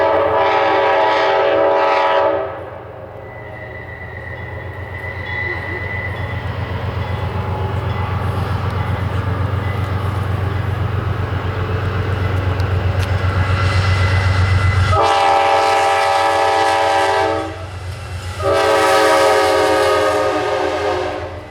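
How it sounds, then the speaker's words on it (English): Amtrak's Pennsylvanian passenger train rolls past on the Pennsylvania Railroad, a loud, steady rumble of the cars underpinning blasts of the locomotive horn at the start, around the middle and again near the end. "Our first train we see here is Amtrak's Pennsylvanian, led by the same locomotive we saw pulling yesterday's Pennsylvanian."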